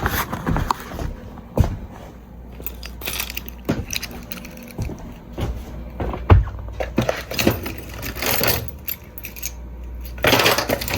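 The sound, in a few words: keys jangling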